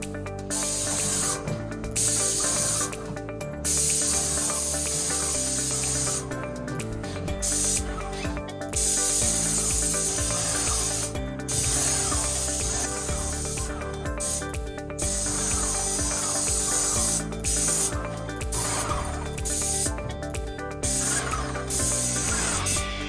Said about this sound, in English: Today I'm going to spray the ceilings and stuff.